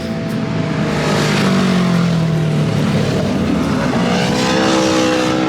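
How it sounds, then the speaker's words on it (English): Several motorbikes pass by outdoors, a loud continuous engine roar with a rising and falling whine, steady throughout. "Here comes some bikes."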